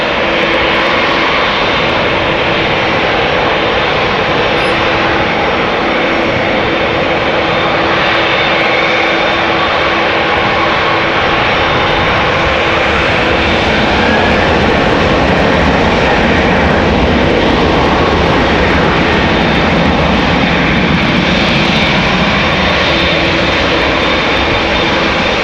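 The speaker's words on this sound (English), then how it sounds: "This is KLM flight 597 to Cape Town, South Africa. 7879 Dreamliner." A KLM Boeing 787-9 Dreamliner jet, eight years old, roars steadily at Amsterdam Schiphol Airport, its loud broadband engine noise holding throughout with a faint rising whine near the end.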